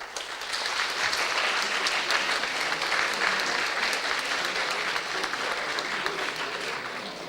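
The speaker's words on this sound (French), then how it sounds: "Je vous demande de l'applaudir." Steady, dense applause from an audience honouring Her Excellency Madame Da Vega at a May 2014 commemorative ceremony, sustained evenly throughout at fairly close range with no talk over it.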